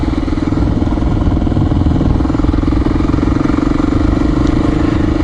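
A Honda XR400R motorcycle rides along, its single engine thumping in a steady, loud drone close by, with wind noise mixed in and no talk.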